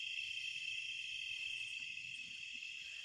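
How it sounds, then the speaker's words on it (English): Insects chirping outdoors at night near a small pond, a continuous high, steady trill with faint low background rumble and no voices. "can hear the bugs and stuff."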